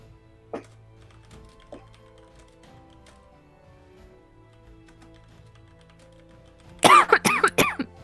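A short burst of coughing from a person nearby, several loud rapid hacks clustered together near the end after a long, quiet stretch broken only by a couple of faint taps.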